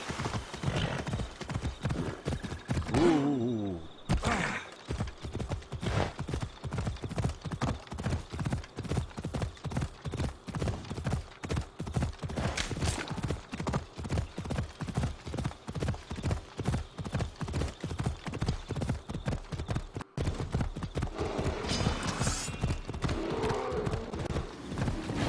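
Horse hooves galloping in the Assassin's Creed Odyssey video game, a rapid continuous clip-clop rhythm lasting the whole stretch, with a brief whinny and pause early on.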